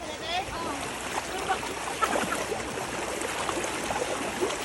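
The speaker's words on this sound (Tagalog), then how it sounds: "My God, ang lakas ng tubig." Broad, steady rushing floodwater churns and splashes throughout, loud and continuous, while voices talk over it.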